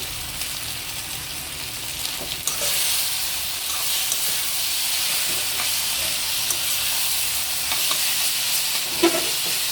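Noodles stir-fry in a hot pan with a steady, loud sizzling hiss close up and occasional faint scrapes of stirring.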